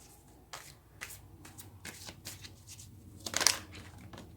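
Tarot cards are shuffled close by in a string of quick, crisp riffling bursts, and one sharp snap of cards comes near the end.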